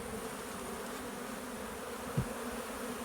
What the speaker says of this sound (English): There's a lot of bees there, folks.